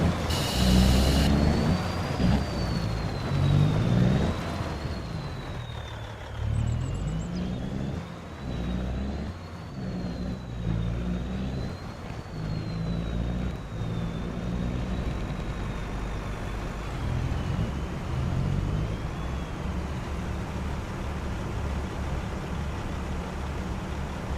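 A truck drives in Farming Simulator 25, its engine a steady low rumble with shifting pitch that runs throughout, joined by a thin whining tone and occasional revs, no speech.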